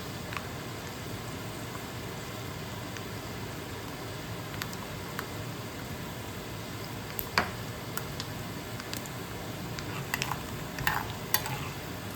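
Seasoning frying in oil in a pan for lemon rice (pulihora), making a steady, even crackling sizzle with scattered small pops and light scraping clicks, close and continuous, with no talking.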